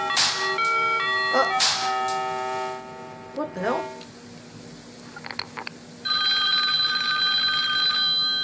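A telephone rings in repeated bell-like bursts, followed by a steady electronic ringing tone, clear and fairly loud.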